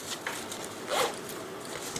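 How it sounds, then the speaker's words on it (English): A zipper on the web panel of a Razer Tactical Pro backpack is pulled in a few short rasping strokes, close and crisp, with one longer pull in the middle and no talking. "and a zipper web panel"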